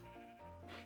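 Sheep in Minecraft bleating, one short wavering bleat that is faint and close, heard on its own.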